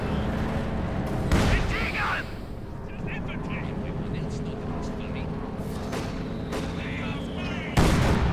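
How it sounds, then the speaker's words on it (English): A heavy mortar fires in Company of Heroes 2 with two sharp, booming blasts near the start and end, over a steady battle din and a commentator's voice. "And again, the heavy mortar fires away."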